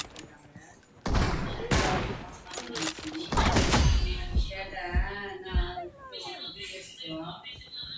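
Shotgun blasts in a PUBG Mobile 3v3 room match come as several sharp, loud bursts over a few seconds, mixed with excited talking from players.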